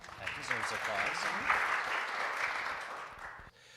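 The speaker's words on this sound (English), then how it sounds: "That deserves applause." Applause from the audience at a debate among news leaders on journalism's civic role, a broad continuous clapping that swells and holds, then cuts off abruptly near the end.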